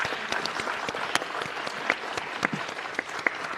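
Scattered clapping from a modest audience at a board of education meeting, soft and somewhat thin, with a few sharper individual claps standing out over a few seconds.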